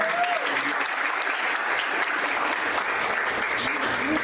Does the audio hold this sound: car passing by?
no